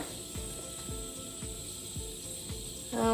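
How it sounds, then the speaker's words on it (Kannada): Cumin seeds crackle and pop in hot coconut oil in a pan, with a repeating series of sharp sputtering bursts over a steady sizzle, close and fairly loud with no talk. "ಜೀರಿಗೆ ನೋಡಿ ಇದು ಈ ಥರ ಚೆನ್ನಾಗಿ ಫ್ರೈ ಆಗಬೇಕು ಚಟಪಟ ಸಿಡಿಬೇಕು"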